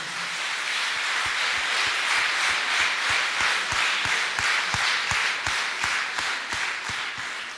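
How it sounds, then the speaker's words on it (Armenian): Audience applause fills a music school concert hall after a performance by folk singing students, a steady dense clatter of many hands clapping throughout, fairly loud and unbroken. "Եկեք ծափահարենք։"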